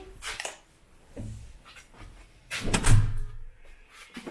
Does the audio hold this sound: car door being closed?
yes